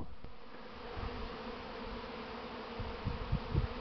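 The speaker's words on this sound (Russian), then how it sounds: "В раевню пчелы пошли. Уже много пошло в раевню." Honey bees swarming outdoors into a swarm trap during the departure of the first swarm from a hive, a dense continuous buzzing drone with a few louder passes of nearby bees toward the end.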